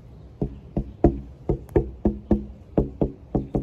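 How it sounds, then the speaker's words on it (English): Knuckles rap on a delaminated soft spot of a surfboard: about eleven sharp, hollow knocks in an uneven rhythm, loud and close with no voices. "soft spot. You can hear it when you knock."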